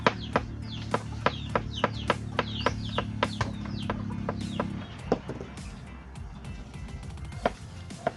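Chickens cluck in a quick, regular series of sharp calls, close by, with a low steady hum underneath that stops partway through.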